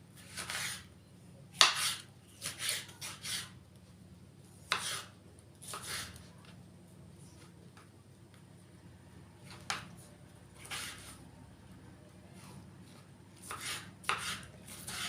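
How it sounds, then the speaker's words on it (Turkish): A knife chops red pepper on a cutting board for a baked chicken and vegetable dish, sounding as irregular bursts of crisp close knocks with short pauses between strokes and no talk. "Şimdi kırmızı biberi doğruyoruz."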